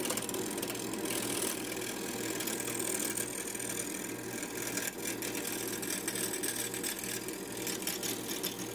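A wood lathe spins a maple blank at around 500 RPM, producing a steady close motor drone with a rhythmic low throb and light scraping from the turning, continuous and without speech.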